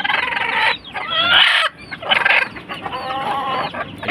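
A white hatch brood hen clucks repeatedly in a series of close, fairly loud calls with short pauses, sitting on a clutch of eggs in a backyard poultry setting.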